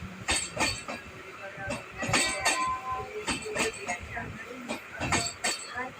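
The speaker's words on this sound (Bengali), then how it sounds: "এই একটা এক্সপ্রেস ট্রেন পাস হচ্ছে" Express train passing close by on a Kolkata–Burdwan line, its wheels clattering in a rapid rhythmic clickety-clack with metallic clinks, moderately loud, and faint voices underneath.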